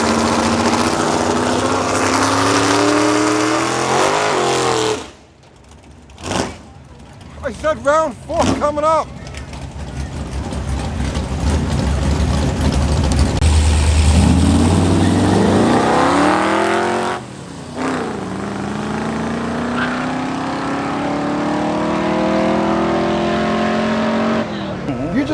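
A race car at a night race launches with harsh, loud revving and rising engine sweeps, cuts out briefly on shifts, then accelerates again, with people talking over parts of it.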